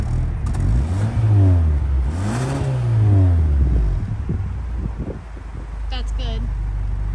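A Hyundai Sonata N Line engine revs up and down twice through its four exhausts with a deep rumbling note, then settles to a low idle while a voice talks briefly.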